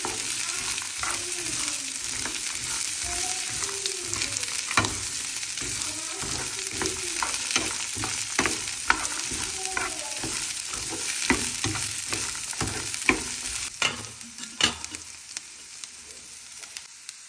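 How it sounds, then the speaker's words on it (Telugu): Ingredients fry in a pan over a low flame, a steady soft sizzle with frequent scraping and stirring clicks from a spoon, close and continuous until it thins near the end. "లో ఫ్లేమ్లో వీటిని అయితే కొంచెం ఫ్రై చేసుకోవాలి"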